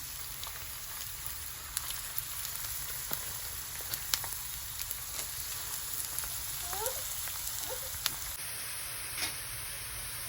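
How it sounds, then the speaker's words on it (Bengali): Sliced onions frying in oil for a crispy beresta topping for haleem, a faint, steady sizzle with scattered crackles and pops throughout, no voices. "এখন হচ্ছে বেরেস্তা করে নিব এই যে পেঁয়াজ এখন হচ্ছে পেঁয়াজ দিয়ে দিব"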